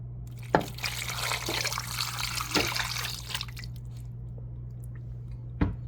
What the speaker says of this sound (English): I'm gonna add a little beef broth and then turn it on.